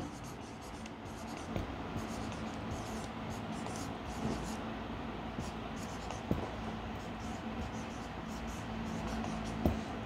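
Steady scratchy strokes of writing on a board while a Bengali poem is copied out in a lesson, heard close under a constant hiss, with a voice speaking quietly over it.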